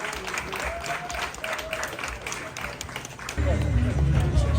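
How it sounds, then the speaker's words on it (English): Crowd applause for competitors at a physique contest's British Finals qualifier, moderate and somewhat distant, mixed with voices and general hall hubbub throughout. "Huge round of applause for our other competitors"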